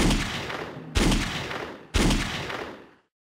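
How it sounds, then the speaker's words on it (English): A musket fires three times in even succession, each sharp close report trailing off into a decaying rumble before the next, then silence. "Sighing, Elizabeth withdrew her musket from her shoulders and fired only 3 times."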